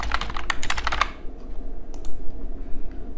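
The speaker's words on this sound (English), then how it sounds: "I'll just type this message as a post here" Quick bursts of typing on a computer keyboard, close and crisp, a rapid run of keystrokes for about a second followed by a few scattered taps.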